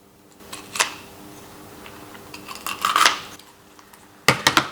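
Sheep trachea cartilage cracking as it is cut with dissection tools, heard as a few sharp, close crunching snaps spread apart, with a tight cluster of clicks near the end.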